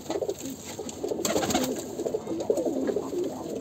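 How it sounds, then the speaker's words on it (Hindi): Pigeons kept for competitive flying coo steadily at close range, a soft continuous murmur of overlapping low calls with no speech. "सब बहुत ही शानदार कबूतर है भाई"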